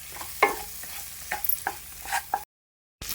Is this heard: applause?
no